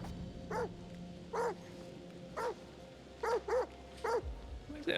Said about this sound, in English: Why has it only just started barking?